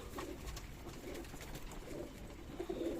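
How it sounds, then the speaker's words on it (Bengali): Black Huma pigeons coo softly in low, repeated murmurs over a steady background hiss, at a pigeon farm in Shibganj, Bangladesh, while it rains outside. "এই কবুতর জোড়া দেখতে পাচ্ছেন এই দুটো আমার ব্ল্যাক হুমা"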